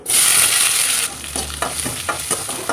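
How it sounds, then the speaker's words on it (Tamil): Onions sizzle steadily in hot oil while making carrot beans poriyal, with a stirring spoon scraping and clacking against the pan in irregular bursts. "வெங்காயம் நல்லா வதங்கிடுச்சுங்க"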